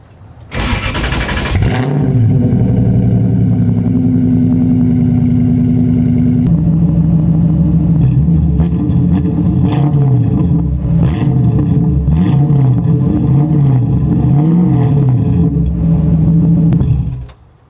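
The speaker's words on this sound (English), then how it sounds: "Not sure too much about the exhaust, but it sounds really nice, and it just kind of dumps out the side there." A 1UZ V8-swapped Nissan S13 drift car with a side-dump exhaust starts up loudly, settles into a steady idle, then gets blipped in a series of rhythmic revs before shutting off, very close and with no talking.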